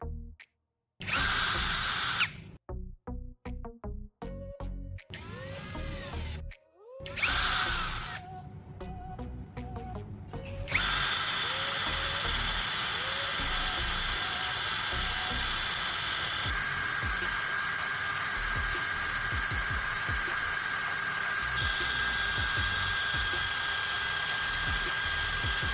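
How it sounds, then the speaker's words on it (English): A power drill whirs in short bursts that start and stop, then runs continuously with a steady high grinding hum as it spins a metal piece against sandpaper. "one end needs to be sharpened by mounting it on a drill and sanding it with sandpaper"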